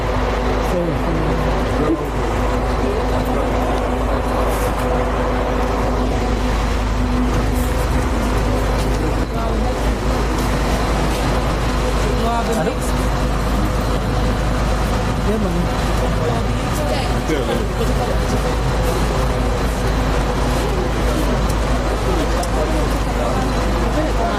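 A bus engine idles nearby at an outdoor trophy ceremony, a steady low rumble running throughout beneath someone speaking and general crowd noise.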